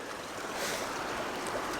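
Water of Spring Creek rushes past in a continuous broadband wash, steady and moderately loud with no distinct events.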